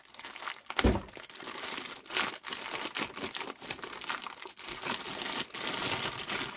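Packing tape being pulled and peeled off the packaging of a Yaesu FT-991A transceiver during unboxing, with close crinkling and tearing noises coming in uneven bursts, no talking.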